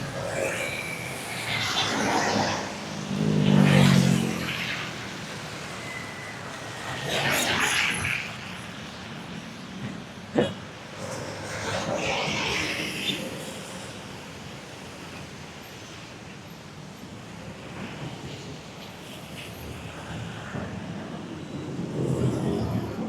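Fast cars rush past on a roadside, several loud whooshing passes rising and fading, with steady traffic and wind noise between them.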